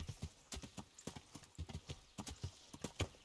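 Hooves of a ridden horse in the medieval video game Kingdom Come: Deliverance beat a steady, quick clip-clop rhythm, close and clear, with no talk over it.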